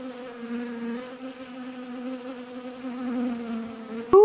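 Bees buzz in flight in a backyard, a steady droning hum close by that wavers slightly in pitch and loudness, ending in a sharp rising buzz as one passes near.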